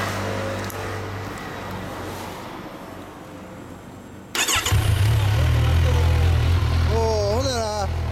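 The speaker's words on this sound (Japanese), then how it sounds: "エンジン音聞かせてもらえる？" A Kawasaki Ninja motorcycle engine fires up abruptly partway through and settles into a loud, steady rumble close by, with faint voices and quieter background noise beforehand.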